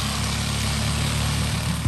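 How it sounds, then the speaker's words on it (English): A Coleman 196 small engine idles rich, giving a steady low mechanical putter with a faint rhythmic pulse, moderately loud and close, with a brief bump near the end. "it's a little rich sitting there idling"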